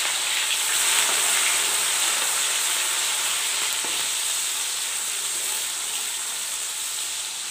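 Moong vadi fry in a pan for a pickle-spiced mixed vegetable dish, giving a loud, even, close sizzle that holds steady throughout with no talking.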